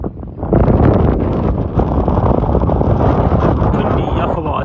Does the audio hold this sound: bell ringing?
no